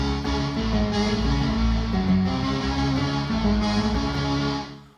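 Synth played through a Kemper amp stack with an octave pedal: a thick, sustained, distorted tone with a heavy low end, a few shifting notes, ending in a fade.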